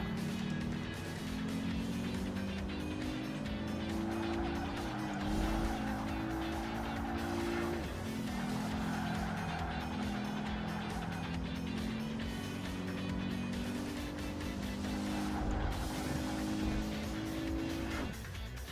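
A BMW racing in the video game Project Gotham Racing 2, engine tones rising and shifting through gears with tire squeals and skids, continuous and loud throughout, no talking.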